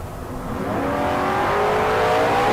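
Drag race cars launching at bracket races, a gold Mustang against a '69 Camaro, engines roaring and rising steadily in pitch as they accelerate hard off the line.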